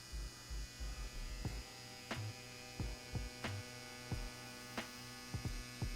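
A Cheyenne SOL Nova 2 tattoo machine runs while lining, a steady electric hum broken by short, uneven bursts and sharp clicks as the needle works, close and fairly quiet, with no voices.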